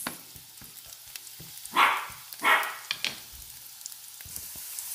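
Garlic and chicken frying together in a pan, a soft low sizzle with scattered clicks and taps of utensils, and two brief louder hissing bursts in the middle.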